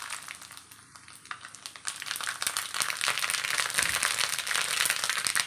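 Mustard seeds dropped into hot oil to temper a curry, a quiet start swelling into a dense, crackling sizzle with rapid popping that grows louder and steadier toward the end, no voices.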